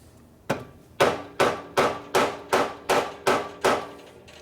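Eight sharp hammer blows strike parts of a 1965 Harley-Davidson XLH Sportster engine, struck at an even, steady pace with a short ringing decay after each hit and no talking.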